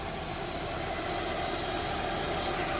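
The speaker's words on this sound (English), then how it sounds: "changing to the rib belt, the noise is a lot quieter from the Supercharger" A Honda S2000 supercharger fitted with a Kraftwerk ribbed belt hums along in a steady, even engine drone with a faint high whine, constant and unbroken throughout.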